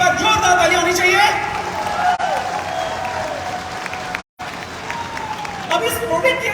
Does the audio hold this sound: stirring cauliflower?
no